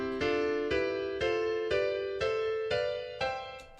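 Seven evenly spaced major chords strike one after another, each ringing briefly before the next, bright and full with rich overtones, played alone at a steady pace.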